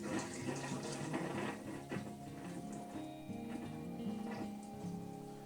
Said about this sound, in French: là c'est de l'eau chaude qui sort